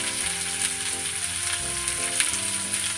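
Onions and green chillies sautéing in a pan for tomato adai, a loud steady sizzle with faint scraping from stirring, close by and with no talking.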